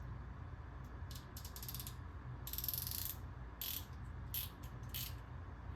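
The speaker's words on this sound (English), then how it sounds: "Now when you put air to this will spin and ratchet." Harbor Freight Earthquake XT 3/8-inch compact air ratchet spinning and ratcheting in several short bursts, fairly quiet against a steady low background hum.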